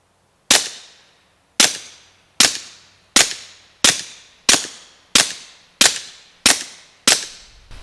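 A suppressed CZ 75 P-01 9mm pistol fitted with an AAC Illusion silencer fires ten sharp, evenly spaced shots, each a loud close crack with a short decaying tail.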